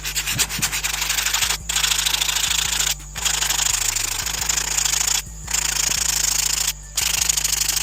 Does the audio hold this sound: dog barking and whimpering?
no